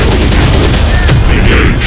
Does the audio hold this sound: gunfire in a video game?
yes